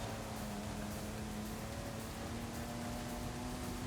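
A big truck drives in the racing game Forza Horizon 5, giving a steady, droning engine hum at a constant pitch with an even rumble beneath. It runs continuously with no talk over it.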